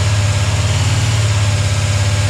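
A newly built 450 hp 351 Cleveland V8 holds a steady elevated rev during cam break-in, a loud, even, throbbing drone up close with no pauses.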